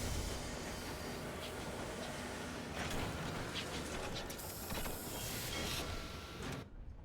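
A steam locomotive in the Sunless Skies video game rolls into a station, a steady clanking, ratcheting iron-on-iron rumble with metallic rattles and hiss that holds continuously, then cuts off at the end.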